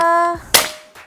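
A single sharp, pneumatic crack with a short hiss of air from a bullpup PCP air rifle, following a steady tone that cuts off, then a faint click.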